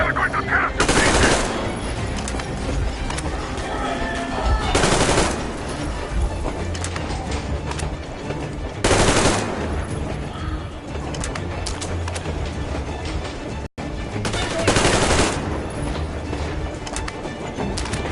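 Sustained automatic gunfire from the Metro Exodus video game on PS4 rattles loud and near, with heavier bursts recurring every few seconds over a busy mix of game effects.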